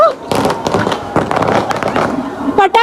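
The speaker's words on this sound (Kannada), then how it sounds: "ಪಟಾಕಿ ಬೆನ್ನಿ ಹೊಡಿತು ಗುರು" Firecrackers burst at an Onam celebration, with sharp cracks and crackling amid a lively crowd, while people talk loudly close by.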